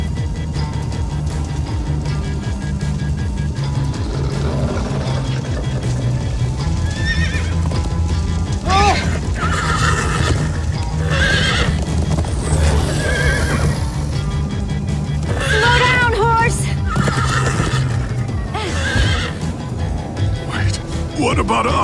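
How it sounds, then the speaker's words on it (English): In Minecraft: Story Mode, horses whinny repeatedly over rapid galloping hoofbeats, loud and close, with excited voices talking over the commotion. "Guys, look! Horses!"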